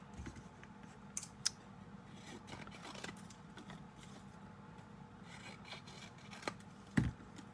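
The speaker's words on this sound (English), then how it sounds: "Let me trim off this paper." Scissors trimming card paper while making a Halloween greeting card, quiet close snips and rustles scattered over several seconds with a sharper cut near the end.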